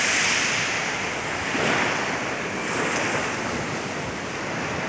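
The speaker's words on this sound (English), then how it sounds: "This is the Kuta beach." Ocean surf rolls onto Kuta Beach in Bali, a steady broadband wash of breaking waves with gentle swells in loudness, close and loud throughout, with some wind buffeting and no talk.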